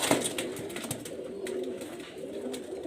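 Pakistani high flyer pigeons coo close by in low, repeated throaty rolls. Faint wing flutters and light knocks come through, and no one is talking.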